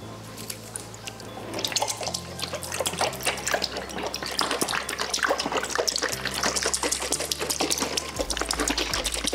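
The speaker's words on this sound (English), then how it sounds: "We're gonna start by adding 1/2 can of evaporated milk." Half a can of evaporated milk poured into a sauce gives a continuous liquid trickle and patter with steady splashing over a low background hum.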